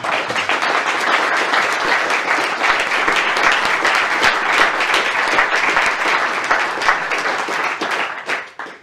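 A room full of people applauding, a dense, sustained patter of clapping that holds steady for several seconds before tapering off.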